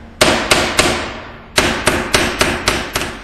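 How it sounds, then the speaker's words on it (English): Two bursts of sharp metallic hammer blows, three then six, loud and close, as a hammer flattens and smooths the sharp cut ends of bolts while installing the bottom seal on a U-Haul door. "And smooth out any sharp edges with a hammer."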